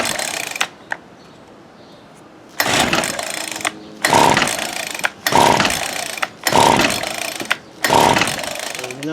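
A used Ryobi SS30 string trimmer sputters under repeated start attempts, its small two-stroke engine catching in several loud rough bursts about a second long, separated by brief quiet gaps, close by.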